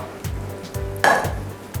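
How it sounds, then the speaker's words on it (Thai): Garlic sizzles and crackles in hot oil in a pan, with a few metallic scrapes and clinks of a utensil against the pan at regular intervals. "เราก็มาเริ่มเจียวกระเทียมกันได้เลยครับ"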